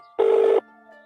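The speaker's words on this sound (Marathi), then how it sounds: "त्याला फोन लावा बरं." A single short keypad tone from dialling a telephone number, one clean beep lasting under half a second against a quiet background.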